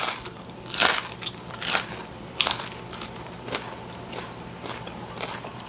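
Crunchy bites into crispy fried papaya leaf eaten with sambal, a few sharp crackling crunches spaced apart at close range, with quieter chewing between them and no talk.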